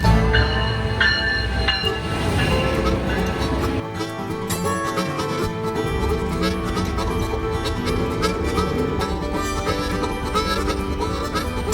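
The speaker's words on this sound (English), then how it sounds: "that's my train leaving" A train rumbles and clatters as it pulls away from a station in Ventura, with metallic squeals and tonal whines over a steady low rolling noise, fairly loud and close.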